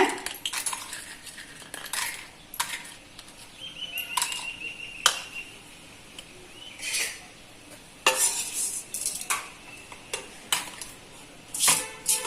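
Chillies stirred in a pan, a metal spoon scraping and clinking against the pan in repeated bursts over a faint, steady sizzle.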